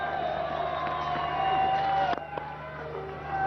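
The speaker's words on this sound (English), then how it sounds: "the crowd here at Queen's also getting involved now as well, as they start their singing and chanting" Cricket spectators singing and chanting at Queen's during a Bangladesh versus Zimbabwe one-day international, a distant sustained crowd drone with tonal voices carrying over the ground's ambience.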